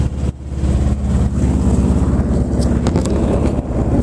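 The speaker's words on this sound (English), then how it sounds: "we're sitting still in the river here idling" A boat engine idles on the Skagit River while sitting still, a loud steady low rumble with wind buffeting the microphone and no talk.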